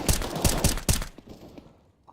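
Rapid burst of A1S rifle shots in a competitive shooter game, four sharp close cracks in quick succession before the firing stops and a quieter tail remains.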